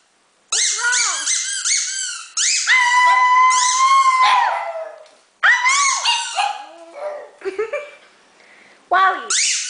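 A dog howls in long, wavering, high-pitched bursts mixed with whimpers and squeaks, loud and close, with short pauses between howls.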